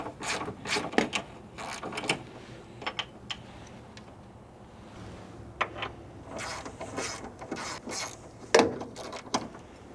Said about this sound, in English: Now we're going to remove these two hold downs. It's a 12mm bolt,